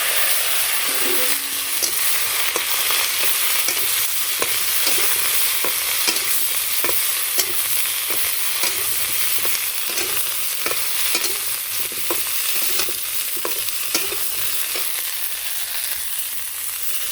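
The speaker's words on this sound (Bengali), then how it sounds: "আলুগুলো লাল লাল করে ভাজা হয়ে গেছে, কপি দিয়ে দিলাম।" Browned potatoes and cauliflower frying together in a pan for a village meal, an even loud sizzle punctuated by regular scraping stirs throughout, with no one speaking.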